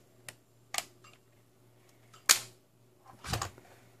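A laptop battery is removed, giving a few sharp plastic clicks and snaps spaced apart, ending in a louder clunk, all close and quiet with nothing else.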